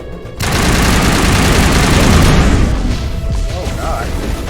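Heavy sustained gunfire in the video game Mass Effect Legendary Edition, loud booming automatic bursts that run continuously with little letup, with faint voices underneath.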